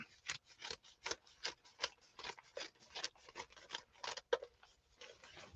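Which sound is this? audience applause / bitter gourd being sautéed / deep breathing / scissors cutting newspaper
scissors cutting newspaper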